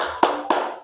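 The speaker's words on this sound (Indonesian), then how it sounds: "Tepuk semangat." Two sharp, close hand claps in quick succession from a classroom 'tepuk semangat' clap chant in a primary school lesson, crisp and evenly spaced with no voices.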